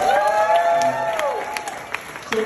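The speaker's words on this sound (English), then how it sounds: "can we get a round of applause for the beautiful bride tonight?" Wedding guests clapping and cheering for the bride in a short, lively burst of crowd applause, with scattered whoops, that tapers off quickly.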